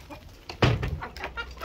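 Chickens clucking close by, a few short bursts of fowl calls in a quiet farmyard as they are being herded toward their coop.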